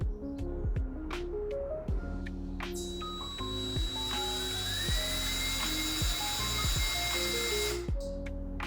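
A hand drill turning in steady, grinding bursts with ratcheting clicks between strokes, drilling holes in an electric guitar body for the neck, close and fairly quiet, with no talking.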